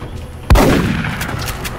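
A single sharp gunshot cracks out of XCOM Enemy Unknown, loud and sudden, followed by a fading rumbling tail under low game ambience.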